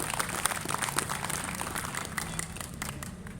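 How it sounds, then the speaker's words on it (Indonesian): A crowd applauds at a farewell-and-welcome ceremony for the head of general affairs at the Sumenep regency secretariat, honouring Pak Jono: dense, steady clapping that holds at an even level for the whole stretch. "saya minta tepuk tangan untuk teman-teman staf umum untuk Pak Jono"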